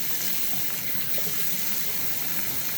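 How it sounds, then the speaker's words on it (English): Tap water runs steadily into a sink while a tomato face mask is rinsed off, a close, continuous splashing gush with no talking. "I'm going to rinse right now."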